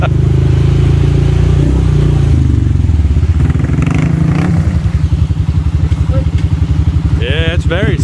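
A 2021 Honda Rancher ATV crawls over rocks in a creek, its engine chugging loud and close with a steady rumble, rising into a brief rev near the end.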